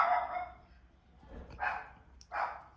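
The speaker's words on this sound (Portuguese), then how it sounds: "agora o cachorro resolveu latir" A dog barks three times nearby, the sharp barks spaced apart with brief gaps, with no talking during them.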